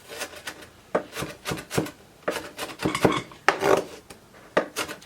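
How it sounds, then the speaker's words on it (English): A stainless steel chef knife dices onion into small pieces on a cutting board, making quick, irregular, crisp chopping taps up close, with short bursts of rapid strikes and no talk. "the chef knife, dicing it up into small pieces"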